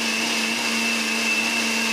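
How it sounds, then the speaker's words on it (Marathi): A kitchen mixer grinder whirs continuously as it grinds grated coconut with a little water, a loud, steady motor whine with a sustained pitched hum and no pauses. "आता ते मिक्सरमधून पाटून घ्यायचं"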